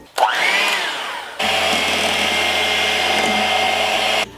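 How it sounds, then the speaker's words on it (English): A loud, steady motorized whir of a blender mixing thick cupcake batter, with a brief rising whine at the start and the motor settling into a constant drone. "now that you finished mixing it with a blender"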